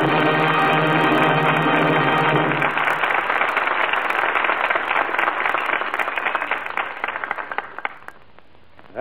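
A studio audience applauds at the close of a radio drama broadcast. The clapping is dense and sustained at first over a fading music chord, then thins out and tapers off toward the end.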